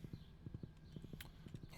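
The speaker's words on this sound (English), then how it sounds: "Horse back near its stable." A horse in the farming video game Stardew Valley trots with quick, crisp hoof clops in short groups of two or three, soft and close, and a faint chime sounds partway through.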